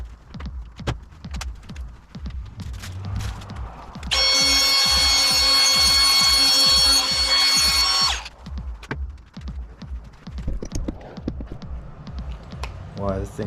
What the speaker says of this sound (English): So I am filing down, per the instructions, it says you can file down the inside of these grips